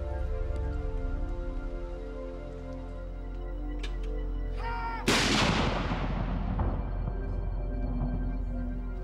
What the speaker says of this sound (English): A salute of 41 guns is fired.